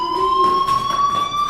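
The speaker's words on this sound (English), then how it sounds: "Hey, do you hear that fire alarm?" A fire alarm sounds inside the video game Life Is Strange. It is a loud, steady electronic tone that holds continuously with slight pulsing and no voices over it.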